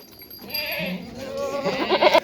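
A large goat at a goat farm in Pindi Pir Wadhai gives a drawn-out, wavering bleat that swells and becomes harsher toward the end, close and fairly loud, with quiet background noise before it.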